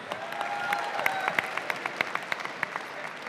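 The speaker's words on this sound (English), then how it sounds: "Let's give her one more round of applause." Applause from an audience at an FFA student leadership talent show, a dense run of hand claps with sharper individual claps standing out near the end, some faint voices beneath.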